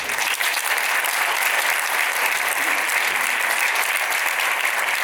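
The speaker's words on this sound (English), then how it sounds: "Big applause" Audience at a panel discussion on planet- and people-positive companies applauding, a thick uniform wash of clapping that stays loud and steady across the whole stretch.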